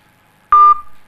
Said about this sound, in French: Arrêtez de biper parce que quand vous bipez là